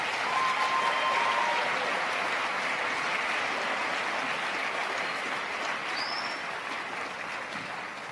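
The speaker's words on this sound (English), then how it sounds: "Another round of applause as they're exiting the stage." A crowd gives a steady round of applause at Merced's 2019 State of the City event as a choir leaves the stage. The clapping is loud, dense and continuous, easing off slightly toward the close.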